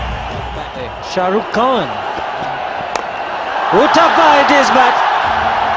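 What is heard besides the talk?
cricket stadium crowd cheering a boundary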